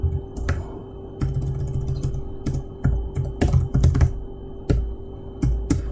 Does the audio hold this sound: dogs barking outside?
no